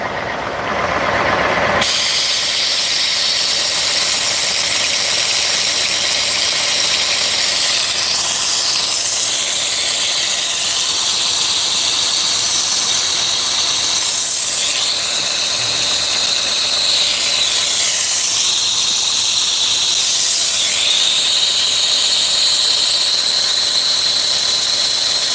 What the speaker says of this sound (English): It's like a pneumatic brake bleeder thing.